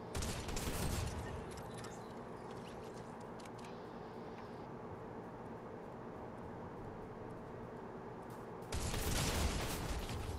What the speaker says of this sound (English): I switched to my shotgun